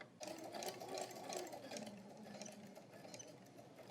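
A sewing machine runs steadily, stitching a straight seam along a marked line while pins are pulled out, its fast, even motor chatter continuous and close for the whole stretch, with no talking.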